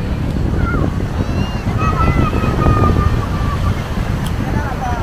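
Sea waves rolling at Devbag Sangam Point in Malvan on a rough, churning sea, a steady loud wash mixed with wind buffeting the microphone, with faint whistling tones drifting above.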